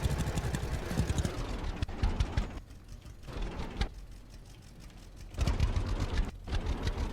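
Tractor engine running in the farming game Farmer's Dynasty, a steady low rumble with gritty mechanical texture that drops back and surges again, fairly close and continuous with no talk over it.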